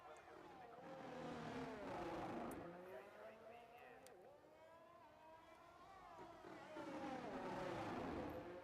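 Race car engine on a hot lap at the Azerbaijan Grand Prix in a sim racing game, revving and shifting with rising and falling pitch through gears, loud and continuous from on board.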